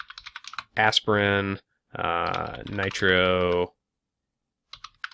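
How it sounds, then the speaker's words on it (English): A computer keyboard clicks with bursts of light, quick key taps scattered around someone talking over the typing. "I'm just typing in these sorts of terms to represent what you would chart"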